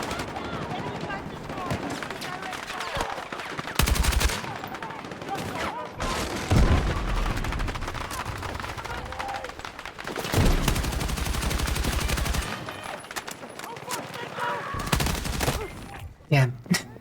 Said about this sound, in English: Oh, this thing has burst fire?